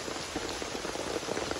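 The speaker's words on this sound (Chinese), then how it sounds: "看哈，下大雨" Heavy rain pours steadily on a dark day at Manao Jian, a rain-swollen mountain stream where rain flower stones are collected; a dense, even hiss of drops fills the whole stretch with no talk.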